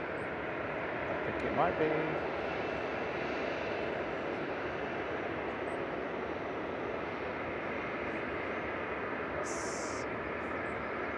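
A KLM airliner passes overhead at Manchester Airport, a low, even engine drone lasting throughout at moderate distance, while people talk briefly nearby.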